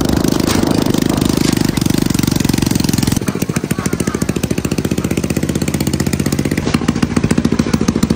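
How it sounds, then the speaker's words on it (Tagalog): An old motorcycle used for hauling bananas idles and runs with a loud, rattling exhaust, first a dense steady roar, then a rapid chugging beat of distinct firing pulses close by, without talk. "Pasensya na kayo sa ingay ng tambotso."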